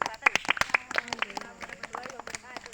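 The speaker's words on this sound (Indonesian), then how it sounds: "Oke, tepuk tangan." A small class of students gives scattered, uneven handclaps in a classroom, sharp individual claps popping over chatter and voices throughout.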